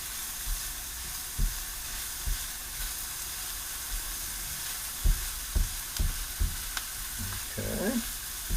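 Rice frying for lemon rice pilaf sizzles softly in a pan, a low steady hiss broken by occasional stirring knocks and scrapes, quiet and close with no talk.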